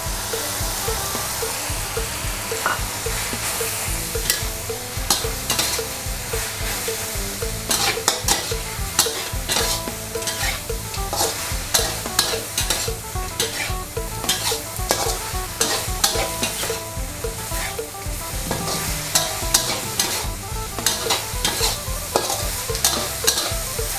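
Spicy field rat and holy basil leaves stir-fried in a hot pan, with a loud, steady sizzle and a constant run of utensil scrapes and clatter throughout, without talk.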